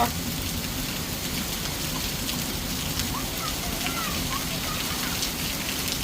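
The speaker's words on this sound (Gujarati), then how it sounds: "વરસાદ ચાલુ થયો" Heavy downpour in Kalavad, a steady broadband hiss of rain hammering surfaces, loud and unbroken throughout with a low rumble beneath and no clear voices.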